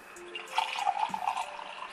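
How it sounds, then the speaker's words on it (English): Hot water poured into a mug on a table, a short bright trickling splash that swells briefly and then settles. "let's put some hot water in the owner's mug and not make a mess on my table doing it"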